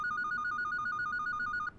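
A telephone rings in a Japanese horror game set in an elevator, a rapid electronic trill repeating evenly for under two seconds before cutting off abruptly.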